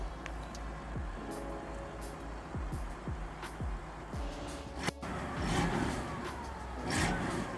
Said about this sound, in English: Can you do the same thing, and I'll go back there so you can hear the exhaust?